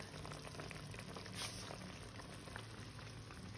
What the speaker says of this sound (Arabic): الطاجين تيتشحر فوق الفاخر